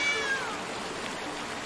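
A cat in the Blacktail video game gives a brief high meow at the start, over a steady rushing stream of water.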